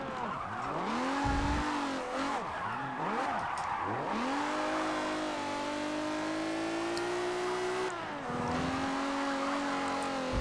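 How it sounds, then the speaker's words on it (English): Slow car sliding sideways under the handbrake at the Nürburgring in Forza Motorsport 7, with a revving, wavering engine note and drawn-out tire squeal that rises and dips across repeated throttle changes. "Tried to force it to go sideways with the handbrake."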